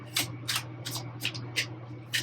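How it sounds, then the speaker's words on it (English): Tarot cards are shuffled by hand in a quiet room, giving six soft, evenly spaced riffling swishes close up over a low steady hum. "I have to keep shuffling."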